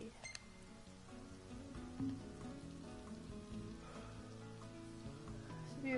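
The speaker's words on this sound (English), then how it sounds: "You get all the rain noises on your tent." Rain patters on a tent in Final Fantasy XV, a steady soft drumming of drops under a faint tonal music bed, quiet and continuous.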